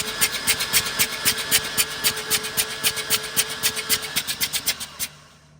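A Mazda SA22 rotary engine cranks over on the starter for a compression test, giving a steady run of even, rapid mechanical pulses that stop abruptly near the end.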